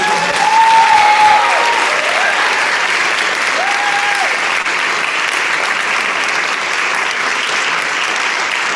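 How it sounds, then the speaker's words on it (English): Loud, sustained audience applause at an instrumental music awards ceremony, dense even clapping from a large crowd holding steady throughout, with a few faint voices underneath. "please help me give a huge round of applause to all the parents who made this"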